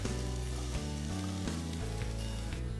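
Steady, close sizzling of chopped onions frying in two teaspoons of hot oil in a kadai, continuous crackle with a low background hum and no talking.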